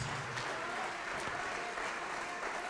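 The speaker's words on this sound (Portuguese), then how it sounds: "Vamos aplaudir mais ao nome de Jesus." A church congregation claps steadily and evenly throughout, a dense wash of applause with no pauses and no voices rising above it.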